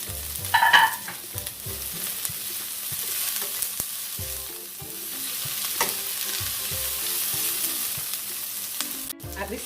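Garlic and escallion sautéing in a pan for jerk chicken pasta, a steady broad sizzle with scraping stirs and faint clinks running throughout, with no one speaking.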